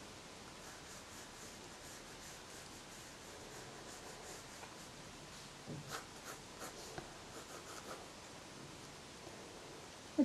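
A pencil or pen draws a face by hand in an art journal, giving a soft continuous scratching under a steady hiss of background noise, with a few slightly firmer strokes near the middle.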